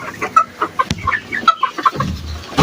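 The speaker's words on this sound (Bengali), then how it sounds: "এখন এটা হচ্ছে মুরগিকে খাওয়াবো" Fayoumi chickens cluck in quick, uneven bursts as they peck at feed, close by and fairly loud, with a few sharp pecks and rustles mixed in.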